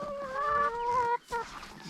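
Several chickens cluck and murmur nearby in a short burst of tonal calls, with a brief pause before a final cluck.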